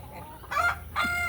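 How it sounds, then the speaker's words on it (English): A young rooster on a farm lets out two short, close clucking calls in quick succession over faint outdoor background noise. "granted it's a rooster"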